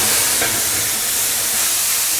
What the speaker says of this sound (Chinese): 接着下入这个焯过水的香菇和西兰花